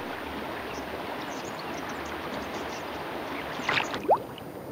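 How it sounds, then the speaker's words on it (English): Dark, swirling river water in a stream where platypus live flows in a steady, even wash, with a brief splash and burble near the end. "swirling water"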